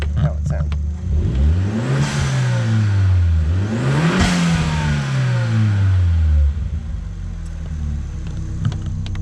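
A turbocharged car engine with a worn turbo seal is revved twice close by, each rev a loud rising then falling roar. The engine settles back to a deep idle rumble afterward.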